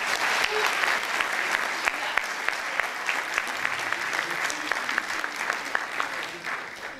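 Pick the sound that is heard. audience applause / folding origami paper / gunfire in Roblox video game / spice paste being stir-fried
audience applause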